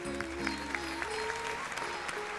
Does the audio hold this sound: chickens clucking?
no